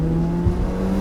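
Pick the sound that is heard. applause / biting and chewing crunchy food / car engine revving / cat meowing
car engine revving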